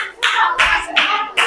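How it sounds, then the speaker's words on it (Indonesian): A group applauding in a classroom, sharp clapping in about four rhythmic bursts, close and loud, with no voices over it. "Tepuk tangan semuanya, yuk."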